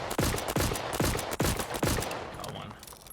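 Weapon reloading and firing in the video game Voidtrain: a run of five sharp, loud shots or mechanical clacks spaced about every 0.4 seconds, then a fading metallic tail.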